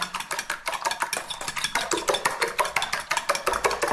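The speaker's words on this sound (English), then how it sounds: "So I'm gonna turn it down, whisk them." Scrambled eggs being whisked in a pan over lowered heat: fast, even, rhythmic scraping strokes, close and fairly loud, continuing steadily without any talking.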